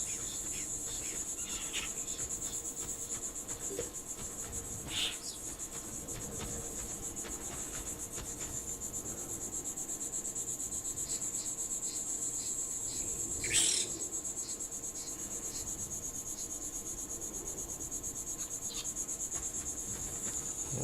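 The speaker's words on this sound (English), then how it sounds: "Listen to those cicadas." Steady, dense cicada or insect buzzing fills the background throughout a video game jungle ambience, with faint scattered bird calls and a few soft rustling sounds over the continuous drone.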